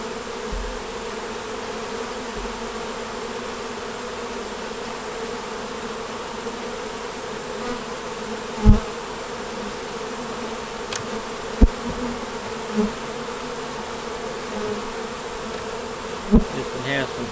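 Honeybees buzz steadily around an open hive frame holding honey and comb being built out, a constant close drone with a few brief knocks and clicks scattered through it.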